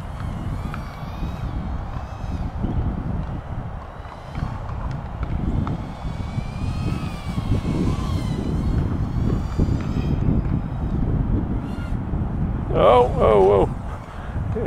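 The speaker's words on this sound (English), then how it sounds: "Yeah, the wind's getting worse now." Strong outdoor wind, roughly 15 to 20 mph, roars steadily across the microphone during a BETAFPV Meteor75 ELRS micro FPV drone flight, a constant loud rumbling buffet with a few brief higher tones near the end.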